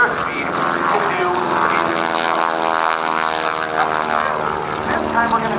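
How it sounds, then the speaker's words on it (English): John Mohr's propeller airplane flying aerobatics at an airshow, a steady loud engine drone with strong harmonic tones that rise and fall slightly as it maneuvers, with a voice talking over it. "Rolling the airplane upright, headed into the wind."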